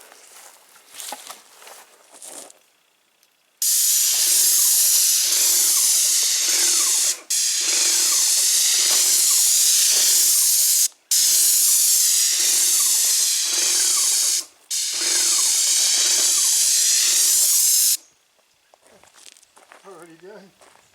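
A Graco X5 airless paint sprayer hisses loudly and steadily outdoors in one long run broken by three brief pauses. Quiet handling sounds come before and after it.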